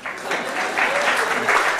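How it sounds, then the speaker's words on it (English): Listeners at a talk on creativity and personality applaud a participant, a brief burst of clapping from a modest crowd that rises and holds for a moment, with a voice faintly underneath. "let's give her applause"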